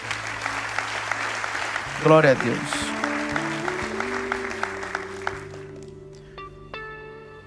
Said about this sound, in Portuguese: Alguém aplauda o seu Jesus?